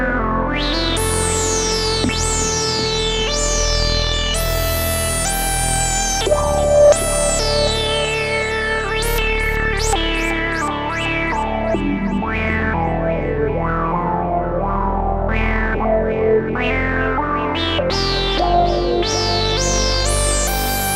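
An Eternal Engine MARS four-voice polyphonic tube synthesizer plays with effects, layering sustained chords and sweeping, descending tones with bright, echoing repeats, loud and continuous with no talking.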